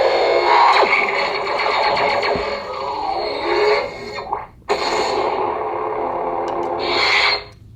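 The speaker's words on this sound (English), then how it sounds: "Photon ignition." A Superneox Neopixel lightsaber fires up with its Photon ignition, a loud distorted electronic whoosh and buzzing hum that cuts out briefly before swelling back into a steady crackling drone.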